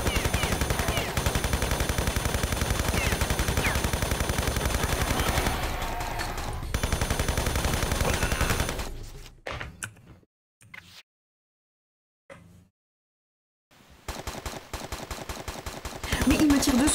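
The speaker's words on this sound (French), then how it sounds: "Mais il me tire dessus." Rapid enemy gunfire in Tomb Raider III Remastered, a dense loud machine-gun rattle that stops, falls silent briefly, then resumes in sharp repeating bursts.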